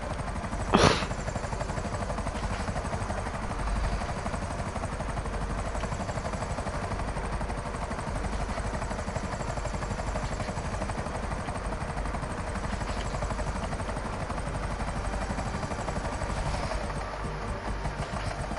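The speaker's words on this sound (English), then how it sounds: "Damn helicopter about to die." A helicopter in a video game keeps up a constant, loud rotor drone and engine hum for the whole stretch, with one brief sharp sound near the start.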